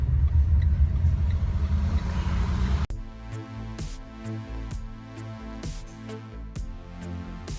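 A car rumbles past on a mountain road, a deep, close roar for a few seconds before it cuts off sharply and gives way to steadier, lower engine tones.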